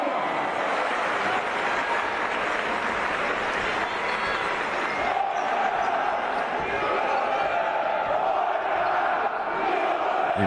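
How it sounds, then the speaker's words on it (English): A big home crowd at a Dvtk versus Schio basketball game roars and chants steadily for the full stretch, with a broadcast commentator talking over it. "Incredible crowd here tonight, really giving the support for Dvtk"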